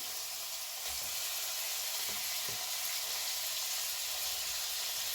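Onions and pork sizzle loudly in a frying pan for a honey soy pork dinner, a constant close hiss broken by a couple of soft stirring knocks, with no talking.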